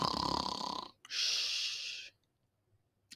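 A voice imitates snoring with a rough, rasping inhale followed by a breathy hiss, two drawn-out snore sounds, close and fairly quiet.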